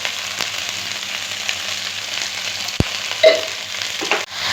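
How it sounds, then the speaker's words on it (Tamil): Steady sizzling of vegetables sautéing in a pan for Tirunelveli sodhi, a continuous hiss with occasional stirring clicks and a soft thump, no voices. "காயெல்லாம் நல்லா வதங்கிடுச்சு"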